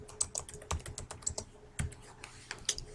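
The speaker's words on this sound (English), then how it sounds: "Type in whatever we have going." Quick bursts of clicky keystrokes on a computer keyboard, close and fairly quiet, with uneven rhythm and short pauses between clusters.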